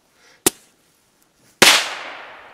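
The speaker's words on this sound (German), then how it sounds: "Die explodieren in der Luft. Das sind die Piccolo Corsair." Two New Year's Eve firecrackers explode outdoors: first a sharp, short crack, then about a second later a much louder blast with a long rumbling tail that fades slowly.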